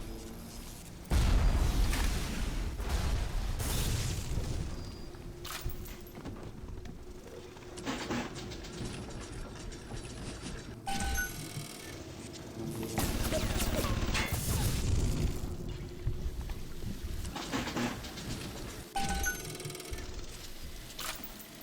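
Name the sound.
turret fighting enemies in the video game BioShock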